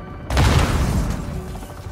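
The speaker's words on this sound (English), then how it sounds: "They are throwing so many grenades." Grenade explosions in Call of Duty Modern Warfare 2, a sudden loud boom after a brief silence, followed by rumbling crackling debris that slowly fades, close and heavy, with no voices.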